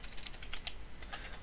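Keys clack quickly on a computer keyboard, a close, faint burst of irregular taps over about a second and a half.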